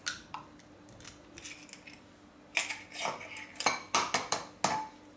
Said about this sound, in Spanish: Voy a poner 2 huevos enteros aquí en otro recipiente.